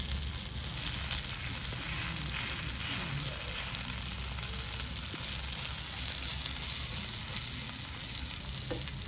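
Fenugreek seeds fry in hot oil for a Tamil-style tomato kuzhambu, giving a steady, close sizzle with soft crackle and occasional stirring, continuous throughout without any talk.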